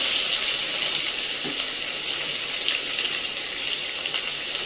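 Onion frying in a pan with spices for a Maharashtrian curry, a loud continuous hiss of sizzling oil close up, steady throughout with no voices.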